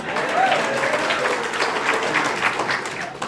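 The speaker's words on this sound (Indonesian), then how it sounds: "Aplaus dong untuk kita semuanya" Audience applause at a talk on women's hajj jurisprudence, a steady wash of clapping lasting the whole moment with a faint voice briefly audible.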